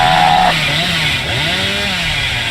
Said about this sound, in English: they left when they heard my chainsaw